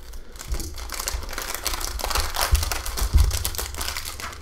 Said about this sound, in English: I'm just going to cut it open.